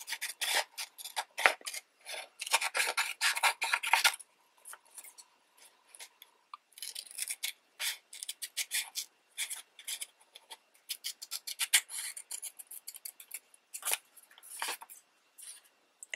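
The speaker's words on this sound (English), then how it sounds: "and then you're going to cut that out" Scissors cutting thin origami paper, a run of close, soft rasping snips and rubbing strokes repeated in irregular bursts, with no talking.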